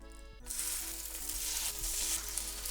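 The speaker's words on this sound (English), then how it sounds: "Then let's put these skewers on the pan." Steady loud sizzling of chicken meatball skewers frying in oil in a hot pan, continuous crackle starting abruptly after a brief moment.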